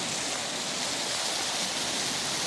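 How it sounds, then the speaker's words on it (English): Water pours steadily at the Highway 96 Waterfall in Custer County, Colorado, a dense, unbroken roar that stays close and even throughout, with no voices. "Beautiful waterfall right here."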